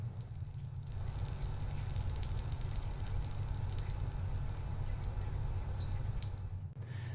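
Water from a spray nozzle at standard pressure rinses dirt and coil cleaner out of air-conditioning condenser coils, a steady hissing wash that runs continuously and fairly quietly with a brief dip near the end.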